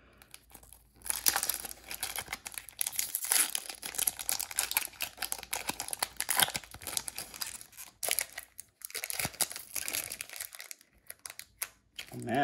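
Crinkly foil wrapper of a Pokémon Rebel Clash booster pack being handled and torn open, a steady close run of crumpling and tearing rustles with brief pauses.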